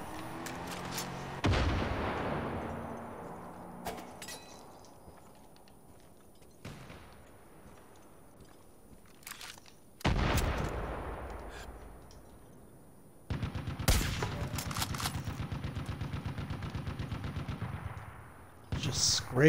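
Gunfire in the video game Far Cry 5: sharp, loud shots and sustained automatic bursts with booming reports, spread across the stretch with gaps between volleys and a long rapid burst near the end.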